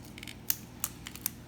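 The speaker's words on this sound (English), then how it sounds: "Alright, so we're taking the wrapper off." Plastic wrapper rustles and crinkles as it is pulled off a Whirlpool refrigerator water filter, with a few sharp close crackles in a brief moment, no talking.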